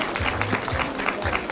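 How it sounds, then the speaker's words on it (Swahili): Crowd applause at a farewell party in Kericho, Kenya: steady, dense clapping from many hands that fills the whole moment at an even level, with a faint voice underneath. "Makofi kabisa."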